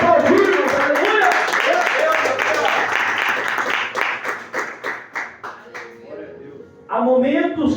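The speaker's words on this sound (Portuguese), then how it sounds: "Para aplaudir, irmãos." A church congregation claps together, a dense burst of applause that thins into scattered, separate claps before a voice returns, with talking mixed in.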